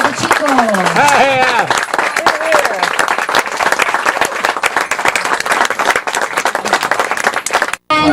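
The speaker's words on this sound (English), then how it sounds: "Huge big applause for the" A crowd on a Danube boat show in Budapest claps for the musicians, loud dense applause that swells and continues, mixed with a voice calling out over it and some cheering.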